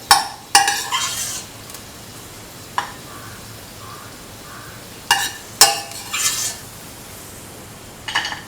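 Cashews being sautéed in a pan, with intermittent scraping and clinking of a utensil stirring against the metal in a few short bursts over a soft, steady frying sizzle, close by.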